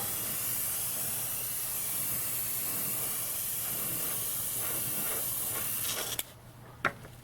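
Steady loud hiss of a paint spray gun painting a 1965 Coronet body, running out of paint, sputtering and cutting out near the end with a couple of short bursts.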